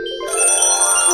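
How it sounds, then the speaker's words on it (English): A phone ringtone chimes out in a children's music setting, a bright, loud electronic ring that starts abruptly and sustains its tonal pattern to the end. "Are you sure it's a phone ringing?"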